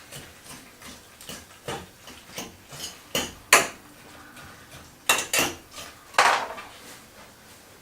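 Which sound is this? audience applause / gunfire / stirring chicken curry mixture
stirring chicken curry mixture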